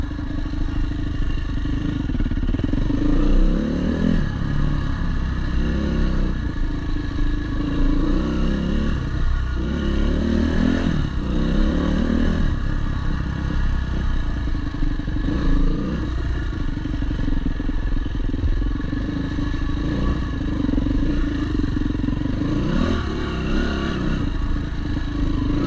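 Yamaha WR400F dirt bike ridden on tight MX trails, engine droning steadily with repeated surges of revving and clattering over rough ground, close and continuous with no talk.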